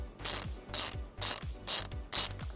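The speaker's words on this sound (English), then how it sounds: "we're going to locate this positive post right here, and we're going to remove it using a 10mm socket" A 10mm socket ratchet turning a nut off the positive post of the fuse box on a 2015 GMC Terrain, five quick clicking ratchet strokes in an even rhythm, close and clear.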